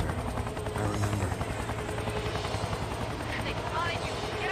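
A helicopter in the video game XIII gives off a dense, continuous rotor roar with rhythmic chopping, loud and close, mixed with busy game noise and muffled voices underneath.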